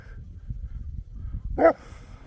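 One short, sharp bark from a shepherd's dog rings out partway through, close by, over a quiet low rumble in the countryside.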